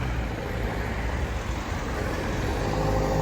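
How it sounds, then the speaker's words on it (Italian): Cars stream along a busy through road in an Italian town, producing a continuous broadband roar with no breaks and a faint high hiss on top. "rumori delle macchine"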